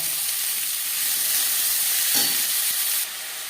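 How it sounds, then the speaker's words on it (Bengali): Chopped onions hit hot oil left from frying fish for a Bengali tilapia curry, giving a loud, steady, bright sizzle and hiss, with a brief stir near the end before it settles slightly quieter. "মাছ ভেজে নেওয়া তেলে দিয়ে দেবো পেঁয়াজ কুচি,"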